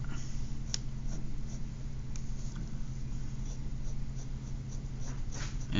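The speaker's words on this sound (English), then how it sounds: "a little shading at the fold above the eyelid" Pencil strokes scratching steadily across paper while shading a cast drawing copied from a Tintoretto cast, a continuous close, soft scribbling texture with a few sharper ticks.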